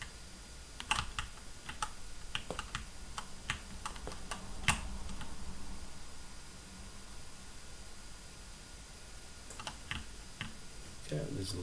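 Computer keyboard keys pressed for navigating a Unity scene with WASD: irregular clusters of light clicks and taps over steady background hiss, brief pauses between bursts, close and fairly soft.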